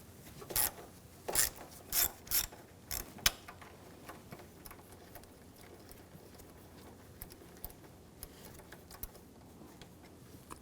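A ratchet turning a 10mm socket on a bolt of a 2007-2013 BMW X5 3.0L engine clicks in quick close bursts, about six rapid strokes, then fades to faint scattered ticks.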